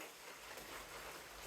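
Heavy rain pouring down in a thunderstorm, a dense, steady hiss of falling drops heard up close with no voices.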